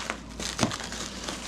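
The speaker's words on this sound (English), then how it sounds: "anything that will cut through shrink wrap" Plastic shrink wrap crinkles and tears as it is cut off a Brompton folding bike after travel, a short burst of close crackling with one sharper snap in the middle.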